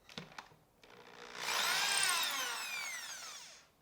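A power drill with a 2.5 mm bit bores into wood, a few brief clicks and then a close whine that rises and fades over about two seconds, with no speech.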